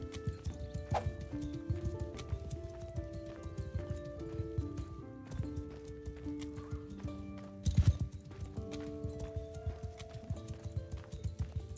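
Horse hooves clip-clop steadily in a video game, a rapid rhythmic patter over background music with a brief louder burst partway through.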